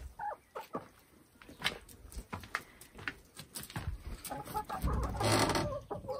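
Hens clucking and squawking around a coop as eggs are gathered, scattered close calls rising into a louder flurry near the end, with faint rustling and no speech.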